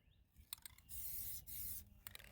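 Orange spray paint hissing from an aerosol can with a larger spray nozzle onto a Kubota tractor bucket, several steady bursts of about half a second each, close and fairly quiet.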